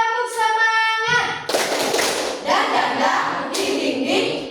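A group claps a rhythmic cheer in unison, loud sharp bursts of hands following a sung tone and a thump, with voices chanting between the claps.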